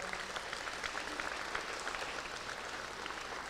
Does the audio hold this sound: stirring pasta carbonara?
no